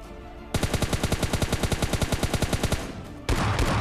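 Enemies firing guns in the video game PUBG Mobile Lite, a rapid automatic burst of evenly spaced loud shots lasting a few seconds, followed by a harsher noisy blast.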